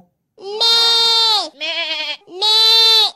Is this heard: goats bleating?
yes